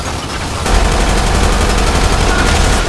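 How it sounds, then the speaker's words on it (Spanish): A sustained, loud barrage of automatic gunfire fills LSPDFR, the GTA V police mod game, kicking in after half a second and rattling on without pause as a thick stream of overlapping shots. "No muere ni se le acaban los disparos."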